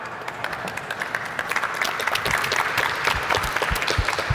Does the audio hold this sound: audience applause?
yes